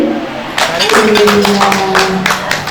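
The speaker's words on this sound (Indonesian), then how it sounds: "Bisa kita kasih tepuk tangan." Clapping from a gathered audience at the opening of a shop in Singosari, Malang, a dense patter of hand claps that starts abruptly and runs steadily under a speaking voice and tonal background sounds.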